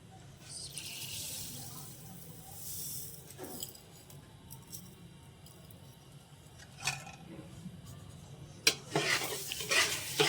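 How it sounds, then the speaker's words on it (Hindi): Sugar is stirred into hot oil left from frying nuts, for Kalabagh-style doodhi mukhandi halwa: soft scraping and a light sizzle, with sharper clinks of a utensil against the pan toward the end. "अब मैं इसी ऑयल में चीनी डालूँगी।"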